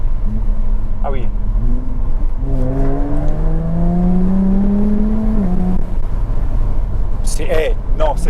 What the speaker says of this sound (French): la sonorité, c'est l'échappement d'origine, ça? Ouais, il est beau le bruit.